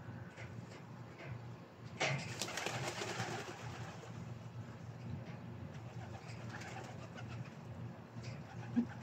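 Pigeons coo steadily through the whole stretch during a routine feeding, a low throaty murmur from several birds. A burst of fluttering or scuffling joins in at about two seconds, with no talk.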